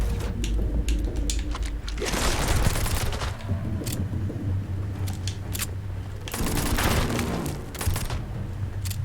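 Sustained gunfire from a weapon in the sci-fi game Starfield, loud rapid bursts with sharp cracks, heavy stretches around the middle and again toward the end, with game sound filling the background throughout.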